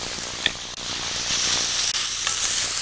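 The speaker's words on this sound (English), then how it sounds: "to that mixture add 3 cloves of garlic that have been minced" Minced garlic sizzles steadily in a hot pan, a loud continuous hiss of frying with a couple of small taps and stirring clicks.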